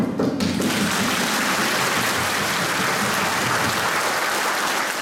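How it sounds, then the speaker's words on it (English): A church congregation applauds together in a reverberant sanctuary, a dense, steady wash of many hands clapping that fills the room at full loudness for several seconds. "Our clapping of hands must reverberate resoundingly in these four corners of this church."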